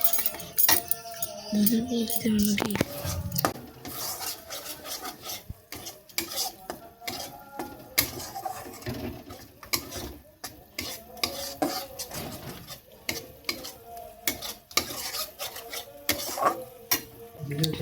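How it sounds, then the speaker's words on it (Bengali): Cashews, charmagaj and spices fried in oil and stirred briskly with a metal spoon, bringing steady scraping and clinking against the pot over a faint sizzle, close and continuous throughout. "তাড়াতাড়ি নাড়তে হবে, তা নাহলে কাজু তলায় বসে যাবে।"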